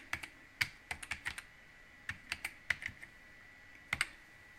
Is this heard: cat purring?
no